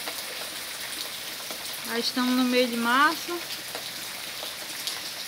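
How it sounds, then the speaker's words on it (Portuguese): Steady rain falls in the countryside in mid-March, a constant soft hiss of drops under a brief spoken phrase. "É a chuva do milho, né? A chuva de fazer a plantação do milho."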